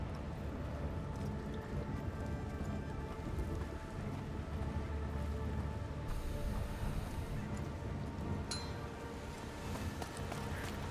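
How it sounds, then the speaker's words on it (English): Steady heavy rain pours through a stormy scene in A Plague Tale: Requiem, a dense unbroken hiss with faint clinks and rumbling underneath, holding constant for the whole stretch. "The rain is getting worse."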